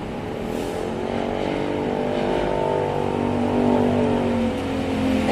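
Traffic at a South Pattaya intersection, with cars and motorcycles passing nearby, a steady loud engine rumble with revving and humming tones continuing throughout.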